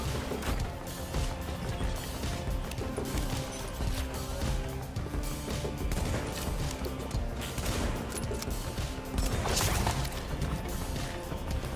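Gunfire from The Division fills the scene, a dense, continuous barrage of shots and impacts layered over game music and effects, steady and loud throughout with a brief burst of heavier hits near the end.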